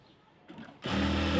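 Sewing machine stitching salwar fabric, its motor starting up with a brief hum and then running in a steady close whir.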